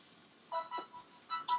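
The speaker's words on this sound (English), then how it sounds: "Oh, that's my phone." A phone ringtone plays a short run of faint, bright electronic tones in quick, uneven bursts, heard on its own in a quiet room.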